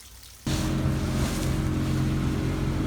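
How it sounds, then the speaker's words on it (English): The engine of a vintage lake boat catches and runs out on the water, a low, steady rumbling drone that starts suddenly after a quiet moment and continues loudly with wind and water noise over it. "Fired right up."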